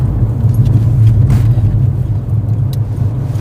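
BMW car fitted with the M57 six-cylinder diesel engine, giving a steady low throaty drone that stays loud and close with a slight swell, heard from inside the moving car with no talking.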